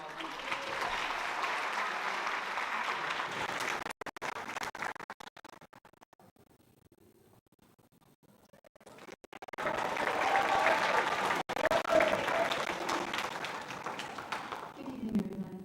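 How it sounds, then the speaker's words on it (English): An audience at a school evening showcase claps as students return to their seats, steady applause that fades out into near silence, then swells again loudly. "Clap for them as they go to their seats because they're all done."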